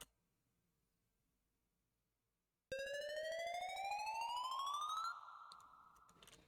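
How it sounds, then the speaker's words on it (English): A riser effect in an electronic dance track, the normal unpitched version, sweeps steadily upward in pitch for a couple of seconds after near silence, loud and bright, then cuts off into a softer tail. "We have the riser here as well."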